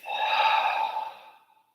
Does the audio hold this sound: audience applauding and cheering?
no